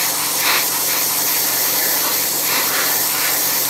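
An airbrush sprays a thin coat of paint onto the underside of a 1/35 scale British Chieftain Mk 10 tank model, giving a continuous close, airy hiss that pulses slightly as the spray is worked along.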